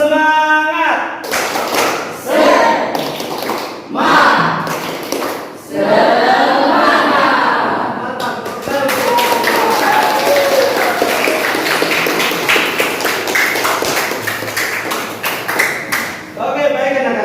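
A classroom of students performs the rhythmic spirit clap, a burst of quick claps and slaps in a steady pattern, loud and near, with voices of children and a teacher chanting along and talking throughout.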